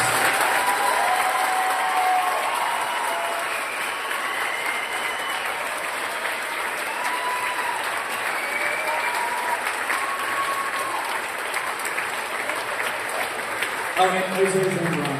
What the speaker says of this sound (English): Let's give these 8th graders a huge round of applause